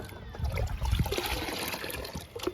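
Liquid plant fertilizer pours steadily onto indoor plants, a close wet trickle and splash lasting a couple of seconds with no talking.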